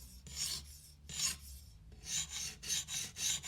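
A stainless steel knife is sharpened on a whetstone, rhythmic rasping strokes scraping back and forth, close and clear with no talking, the strokes quickening toward the end.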